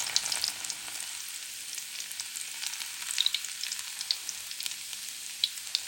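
Garlic hitting hot oil with a pinch of five-spice seeds, a steady close hiss of frying scattered with small pops and crackles, with no voices.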